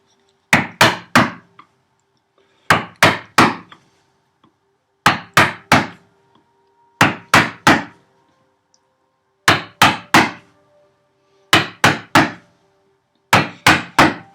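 A mallet strikes a freshly sharpened chisel while chopping a housing dado in a wooden workbench, sharp woody knocks arriving in tight bursts of three or four, separated by short pauses, close and loud.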